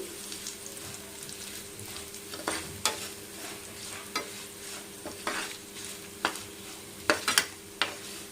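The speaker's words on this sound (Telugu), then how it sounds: "బెల్లం ఇలా కరిగిపోయేంత వరకు కలుపుతూనే ఉండాలి" Jaggery being stirred in a pan as it melts for ginger chutney, with a soft steady sizzle under scattered scraping and clinking strokes of the spoon against the pan.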